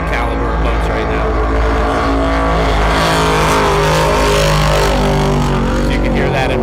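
A racing powerboat at the Lake Hopatcong Grand Prix roars loudly past, its engine note swelling and sliding as it passes, with a commentator talking over it.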